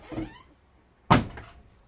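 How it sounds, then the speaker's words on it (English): Doors on a Living & Co. stacked 10/6 kg washer-dryer and 7 kg vent dryer being shut: a soft thud, a brief pause, then a sharper, louder closing thump, both close by with no talking. "close the doors."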